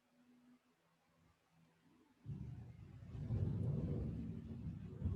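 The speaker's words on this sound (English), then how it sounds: "Whoa, it's thundering." Faint, far-off thunder rolls in as a low, swelling rumble that builds after a quiet start and lingers, heard alone without speech.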